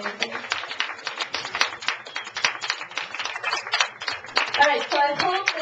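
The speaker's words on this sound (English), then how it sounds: "We have another round of applause." A small audience claps after a reading at a cafe, sparse hands producing distinct, uneven claps, with talking and voices mixing in toward the end.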